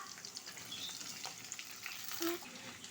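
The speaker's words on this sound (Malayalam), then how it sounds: "സവാള ഒന്ന് വഴറ്റി എടുക്കാം" Sliced onions with green chili and curry leaves sauté in a pan with a soft, continuous sizzle and occasional light stirring scrapes, fairly quiet and close.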